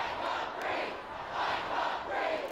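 A large protest crowd chanting during a march through Sydney in support of US protesters, a broad roar of many voices rising and falling in a rough rhythmic swell, heard from some distance.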